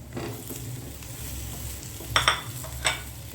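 Boiled potato cubes frying in a pan, a steady sizzle close by with a few sharp utensil scrapes and clinks near the end.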